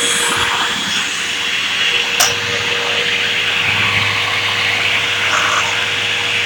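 A Hoover vacuum cleaner runs indoors with a steady, close whooshing drone and a constant low hum, with a brief click partway through.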